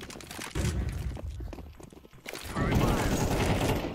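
Gunfire in Counter-Strike 2, bursts of rapid shots and chaotic game action at moderate level, with excited players talking over it.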